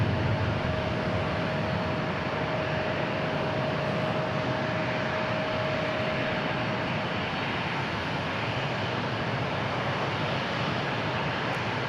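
An A321 airliner departs DFW airport, a steady broad roar of jet engines holding at a constant moderate level throughout, distant and unbroken, with no voices.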